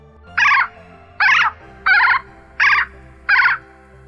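Five short, gobbling, birdlike calls sound at an even pace, each a brief warbling burst separated by silence, played as the sound effect for the pterosaur Howopterus.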